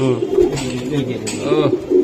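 A racing club pigeon coos repeatedly close to the microphone in soft, rolling phrases, with someone talking over and between the calls.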